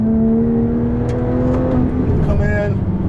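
Porsche 911 GT3 997 at full throttle on a race track, heard from inside as a loud droning engine with a steadily climbing pitch, the driver speaking briefly over it.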